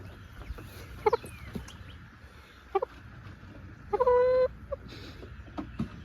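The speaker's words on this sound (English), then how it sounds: "Mulder brought himself a chicken over here." A chicken clucks nearby in short scattered calls, with one longer drawn-out squawk, over a low background hum with no talking.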